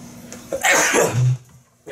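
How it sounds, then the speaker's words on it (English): A single loud, close sneeze bursts out with a sharp breathy onset and a brief voiced tail, framed by quiet room tone during work on a vintage GE box fan. "I'm about to sneeze"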